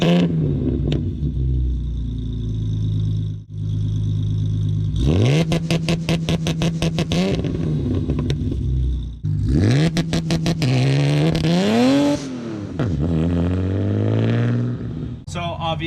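BMW 330ci E46 with M54 B30 inline-six on a track-build launch-control tune, heard from outside: loud engine revving in repeated rising and falling sweeps, with bouncing limiter-like stutter, and a voice speaking briefly at the start.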